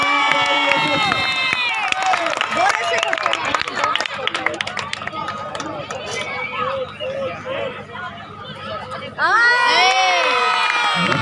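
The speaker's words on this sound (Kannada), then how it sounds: "ಚಪ್ಪಾಳೆ" A crowd at a women's kabaddi final sends up loud, sustained cheering and shouting with some clapping mixed in, and a bright surge of voices near the end.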